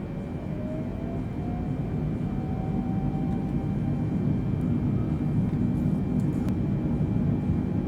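Four-engine Antonov An-225 Mriya in Microsoft Flight Simulator accelerating at about 10,000 feet, a steady loud engine rumble and roar with a faint rising whine throughout, no talk.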